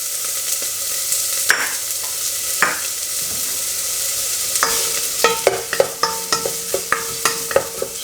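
Red onion frying in a mussel pan, with a steady hiss of sizzling and repeated scraping, clacking stirs that grow more frequent toward the end, loud and close with no voices.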